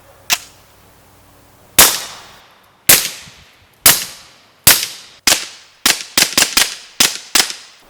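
A suppressed CZ 75 P-01 pistol fires 147 grain subsonic rounds: ten sharp, loud reports, widely spaced at first and then coming in a quicker string, each with a short decaying tail, with no talking.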